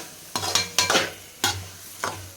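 A spoon stirs broad bean curry with masala in a pan, scraping through the mix in four or five distinct strokes over a soft, continuous sizzle, close and clear with no talking.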